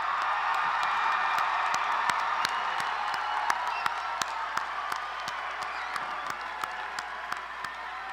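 Friends and relatives at Lamar University's December 2017 College of Arts & Sciences commencement receive continuous, moderately loud applause from a large crowd in a big hall, with crisp individual claps standing out from the steady roar.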